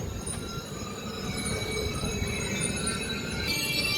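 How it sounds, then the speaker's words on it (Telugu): The Charminar Superfast Express rolls slowly through Aler railway station, a steady rumble of wheels and carriages with faint high metallic squeals and tones above, continuous and moderately close with no talk. "ట్రైన్ ఇక్కడ నుంచి మెల్లగా వెళ్తుంది"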